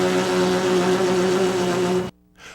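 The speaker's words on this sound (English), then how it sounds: "direct a full airstream through the center of your lips to create a buzzing sound" A brass player's lips buzz steadily against each other for a baritone embouchure, producing a loud, continuous reedy drone that stops abruptly near the end before a short faint resumption.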